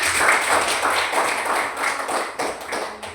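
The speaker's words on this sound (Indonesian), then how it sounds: "Kasih tepuk tangan bersama kawannya." Classroom of pupils clapping together in a burst of applause, a dense, steady patter of many hands lasting a few seconds, fairly close and without speech.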